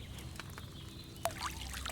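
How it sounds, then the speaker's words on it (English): A soft liquid pour trickles and gurgles quietly, with a small splash partway through, faint and steady with no talking: wine poured into a cauldron in the video game Kingdom Come: Deliverance 2. "what did you pour in there? Wine, of course."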